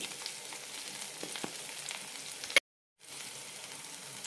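Tomatoes with turmeric, cumin and coriander powder fry in a pan for mint chammanthi, making a close, continuous crackling sizzle that drops out abruptly for a moment and then resumes at the same level.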